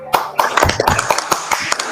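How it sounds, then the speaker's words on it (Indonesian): Elementary schoolchildren in a classroom clap their hands together in a close, loud, rhythmic burst of about a dozen claps, with voices mixed in. "Tepuk tangan dulu untuk kita semua."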